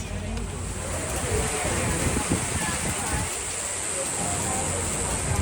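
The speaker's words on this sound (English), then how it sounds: "It is raining and wet." Steady, heavy rain hissing and drumming continuously, with a broad wash of noise and no pauses, close and fairly loud.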